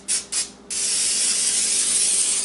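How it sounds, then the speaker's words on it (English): Two quick spritzes from an olive oil spray can onto a pan, followed by a longer steady hissing spray, close and fairly loud. "spray this pan"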